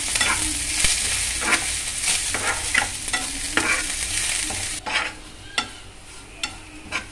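Ginger, curry leaves and fenugreek fry in oil for lime pickle, a loud, steady sizzle under repeated scrapes and knocks of a stirring spoon, the hiss easing slightly toward the end.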